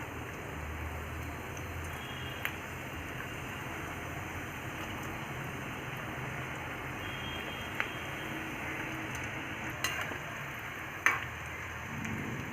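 Wheat diamond cuts deep-fry in hot oil, a faint, even bubbling crackle running throughout with occasional small pops and clicks.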